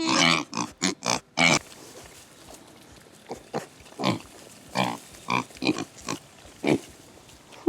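Pigs eating hay grunt and snort close by, with a fast cluster of loud grunts at first, then sparser, irregular grunts and snuffles while they root through the feed.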